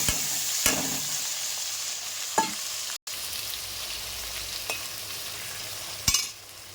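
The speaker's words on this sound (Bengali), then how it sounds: "আর এই তেলের সব চিংড়ি মাছ ছেড়ে দিয়েছি।" Prawns fry in hot oil with a steady, fairly loud sizzle, and a few brief clinks and stirs break through the continuous hiss.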